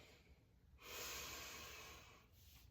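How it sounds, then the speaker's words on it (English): One deep, slow breath drawn in and released during a stretching session, close and soft, swelling to a long airy inhale before easing off. "I'm just going to start breathing."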